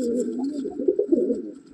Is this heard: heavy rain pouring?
no